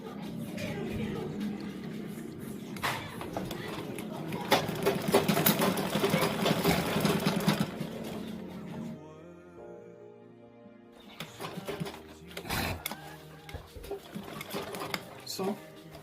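A sewing machine stitching a ladies shoulder bag, with rapid mechanical whirring runs that pause midway and then resume, close and steady, while a person talks over it.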